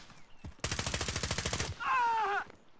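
A rapid burst of automatic gunfire in a squad-based shooter video game, about a dozen sharp evenly spaced shots, followed by a short whining, ringing tail.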